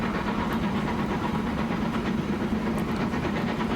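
Oil trains roll along the track in the rail simulation game Transport Fever 2, a steady rumbling drone with faint rhythmic clatter, continuous and moderately loud with no talk.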